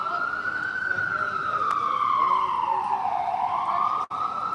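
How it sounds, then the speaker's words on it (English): An ambulance siren wails on a noisy New York City street, its pitch sweeping slowly down and back up, loud and steady throughout with constant traffic rumble beneath. "Oh, it's a ambulance."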